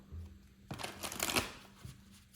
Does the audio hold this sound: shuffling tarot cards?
yes